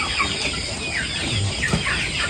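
Chickens cluck softly on a farm, scattered short calls over a constant background hum, with no voices present.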